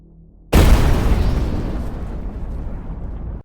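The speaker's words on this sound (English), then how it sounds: "what happened if the reactor got destroyed by one of those enemies earlier? Yup, you guessed it. It exploded" Reactor exploding in the video game Mindustry, a sudden loud boom after half a second of near-silence, followed by a heavy rumbling roar that slowly fades over about three seconds.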